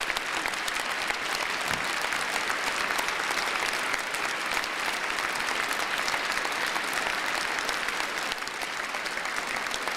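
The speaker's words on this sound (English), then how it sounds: "Because she keeps standing up clapping." Sustained, dense audience applause during a Trump speech, a large crowd clapping continuously at a steady level throughout, with no break in the sound.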